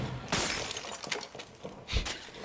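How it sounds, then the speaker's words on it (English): Glass shatters in Rainbow Six Siege gameplay, a sharp crash followed by scattered tinkling fragments and a second breaking burst near the end. "The glass breaking."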